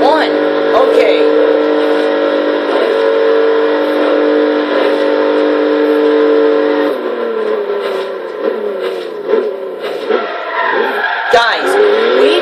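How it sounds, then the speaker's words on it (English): A BMW i8 in the Forza Horizon 3 racing game screams along at over 200 mph, a loud sustained high engine whine that shifts and drops partway through, under an excited voice talking. "we just broke 201 miles an hour in the BMW i8"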